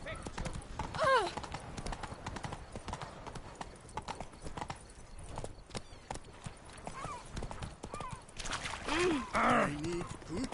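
Horse hooves clip-clop steadily in a video game as a character rides, a quick close rhythmic patter running throughout, with game characters' voices talking over it.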